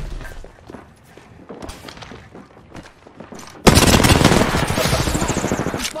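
Video game gunfire in Apex Legends: scattered shots and thuds, then a sudden loud, sustained burst of rapid automatic fire that dominates to the end.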